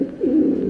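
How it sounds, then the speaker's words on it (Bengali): Long-feathered fancy pigeon at a pigeon farm in Bangladesh gives a single short, low, throaty coo, close and clear with no talk. "এটা লং এর কবুতর"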